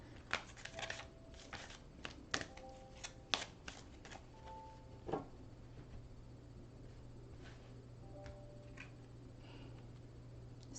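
Slippery tarot cards shuffled at a table, soft flicks and riffles with sharp clicks early on, thinning to quieter occasional taps over a steady low hum.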